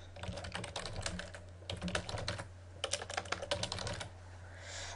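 Typing on a computer keyboard to enter a test name: quick, light clicking keystrokes in several bursts separated by short pauses, heard close and fairly quiet over a low steady hum.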